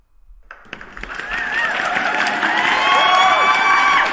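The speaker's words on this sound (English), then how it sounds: "Let me find this round of applause real quick." A round of applause sound effect that rises from silence into loud clapping mixed with cheering and whistles, building steadily over about four seconds.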